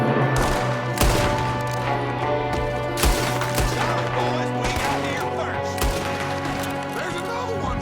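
Gunfire in the video game Red Dead Redemption 2 rings out as repeated sharp shots and bursts at an irregular pace, loud and close, over a dense background of game music and ambience.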